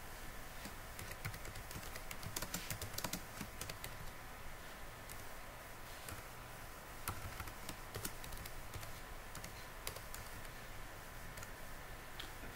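Typing on a computer keyboard while writing HTML code, a steady patter of light, quick key clicks with irregular spacing and occasional louder taps, close and fairly quiet, with no speech.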